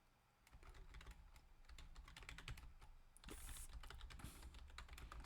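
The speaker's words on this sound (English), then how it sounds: "I'm typing in the longest sentence ever." Rapid clicking of typing on a computer keyboard runs continuously and close by for about five seconds, with uneven bursts of keystrokes and a slight rise in background noise partway through; nobody speaks.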